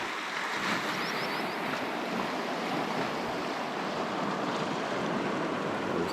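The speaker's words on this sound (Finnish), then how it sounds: "Tässä on joku tämmönen kalliosysteemi, jonka takia tämä valtavasti tämä aalto tässä käy." Sea waves surge and crash against rocks on a Norwegian coast, producing a dense, unbroken roar of churning water that stays loud and close throughout.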